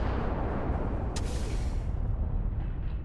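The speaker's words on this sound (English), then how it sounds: "Another explosion." A loud, deep explosion blast in the video game Starfield with a Star Wars modlist, a sustained roaring rumble that fills the low end, with a brief crackling burst partway through before it slowly trails off.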